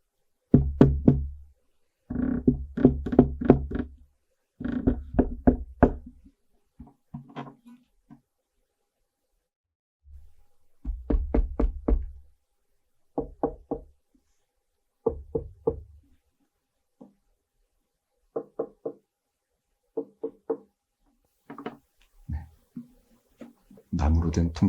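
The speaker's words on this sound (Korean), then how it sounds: "나무로 된 통기타는 이런 소리가 납니다." Wooden acoustic guitar tapped and struck in short bursts of knocking with a ringing body tone, a few groups of hits separated by pauses, close and fairly quiet.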